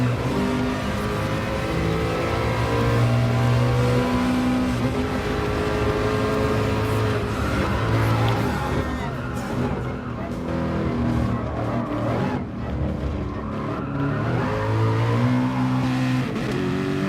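Group C race cars lapping a track in Gran Turismo Sport, a steady loud engine drone with shifting harmonic tones as the cars accelerate and hold speed, continuous through the whole stretch with a voice talking over it.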